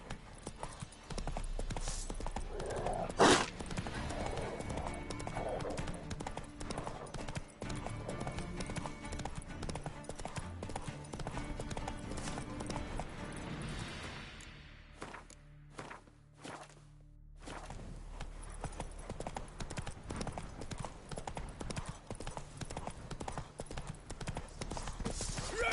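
Horse hooves clip-clop steadily as the animal is ridden at a walk, a close and continuous rhythm of hoof strikes with a brief louder moment and a short quieter patch midway.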